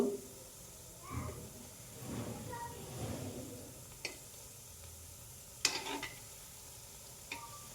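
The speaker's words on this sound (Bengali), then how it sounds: "একদম কম জালে এগুলো আমি ভেজে নিব।" Kathi goja sweets fry in oil over low heat with a faint, steady sizzle, broken by occasional utensil clinks and stirring.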